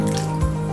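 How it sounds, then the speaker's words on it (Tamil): Water poured from a tumbler into a cooking pan of baby potato gravy gives a short, steady splashing pour with a faint low gurgle, close and alone, lasting under a second. "இது கூடவே 1 டம்ளர் தண்ணி ஊற்றிக்கலாம்"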